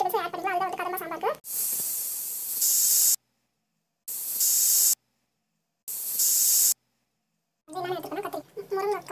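A pressure cooker on the stove lets out repeated bursts of loud hissing steam while vegetables cook for sambar, three long blasts separated by silence, with someone talking before and after.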